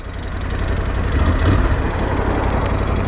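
A Ducati Scrambler 1100 fitted with Termignoni exhausts pulls away with a deep, steady engine rumble that swells slightly midway, close and fairly loud with no talking.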